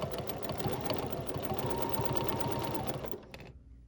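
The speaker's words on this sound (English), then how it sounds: "I'm going to stipple quilt over the whole top of this bowl" A BERNINA sewing machine stipple quilts fabric with a steady, fast needle hum that runs continuously and close up, then cuts off abruptly near the end.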